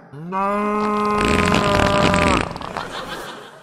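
A cow moos once in an audio pantomime of Jack and the Beanstalk, a long loud bellow that rises, holds and breaks into a rough rasp before fading.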